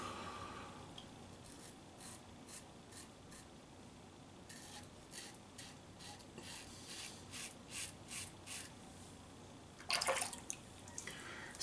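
Shaving with a Wilkinson Classic butterfly safety razor on a first pass with the grain, heard as a soft, faint raspy scraping of blade over stubble in short strokes, with a brief louder rinse or tap near the end and no talking.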